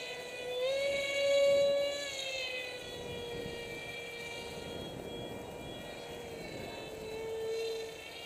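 RCPowers F-18 v2 model jet with a 7x4 propeller motor and thrust vectoring, its steady high whining drone holding near with slight pitch swells as it passes, no one talking.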